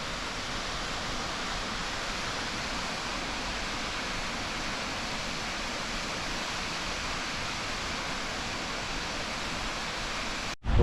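A waterfall on the Yellowstone River rushes in a dense, constant roar, loud and unbroken for the whole stretch, with only a brief handling bump at the very end.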